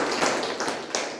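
A Toastmasters club meeting audience gives a round of applause. The even, crackling clapping has a few sharper individual claps standing out and fills a short stretch at moderate level.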